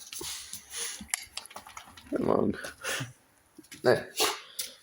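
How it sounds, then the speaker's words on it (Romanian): A house dog barks and whimpers in short uneven bursts at close range, with people talking over and between the yelps. "Câinele casei"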